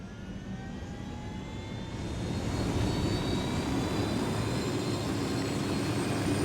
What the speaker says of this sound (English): I have a helicopter just outside.